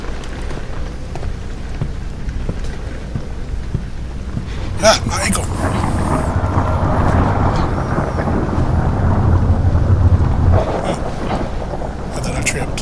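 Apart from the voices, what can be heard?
thunder and lightning storm in video game Amnesia: The Dark Descent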